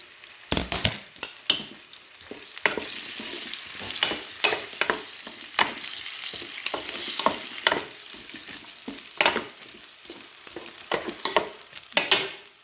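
Chicken pieces for Thai coconut chicken cook in a pan on medium heat, with a soft steady sizzle broken by repeated sharp scrapes and stirs of a utensil against the pan.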